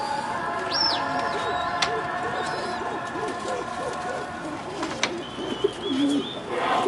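Domestic pigeons kept by a fancier coo close by in soft, repeated, rhythmic bursts, with scattered chirps over a steady low background and faint voices.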